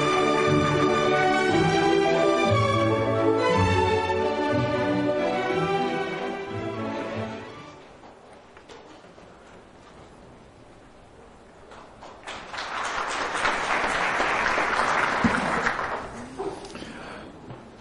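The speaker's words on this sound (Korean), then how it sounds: "큰 박수로 맞아주시기 바랍니다." A conference audience at the 2011 World Strategy Forum applauds to welcome Korea's new finance minister to the stage. Music plays first, then, after a quiet gap, a dense burst of clapping swells for a few seconds and fades.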